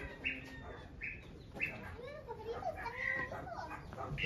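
Birds kept under a blanket in a barnyard near a cheese-making farm in Mazamitla, Mexico cluck and chirp in short, scattered calls, faint and somewhat distant, amid low outdoor background noise.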